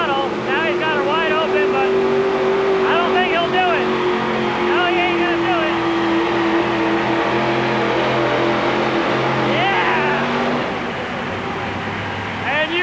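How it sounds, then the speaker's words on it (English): A monster truck engine revs hard at the start line of a 1990 TNT Monster Truck Challenge race in Houston, a loud, steady roaring drone that continues throughout beneath an announcer's commentary. "Tony's revving it up, getting ready to start."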